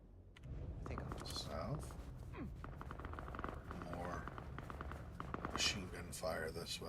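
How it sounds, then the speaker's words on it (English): Distant rapid bursts of machine-gun fire in the video game Vampire: The Masquerade – Bloodlines 2 rattle over a constant low rumble, with occasional footsteps and a voice talking over them. "More machine gun"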